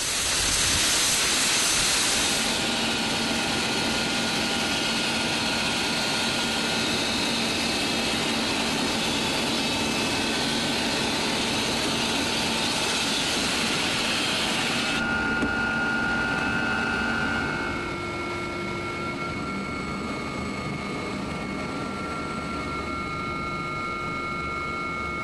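Helicopter in flight heard from inside the cabin, a steady loud turbine whine and broadband rushing hiss that shifts tone partway through and carries on without talk.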